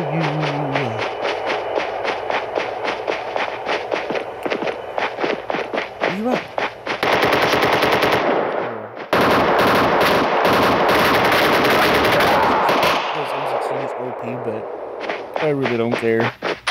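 AK rifle fire in the mobile shooter Call of Duty Mobile: loud, dense automatic bursts that run for several seconds, broken by a brief gap, with voices heard before and after the shooting.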